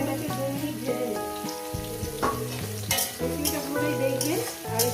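Chopped onion and green chili fry in a pan with a constant crackling sizzle and occasional stirring, beneath steady background music.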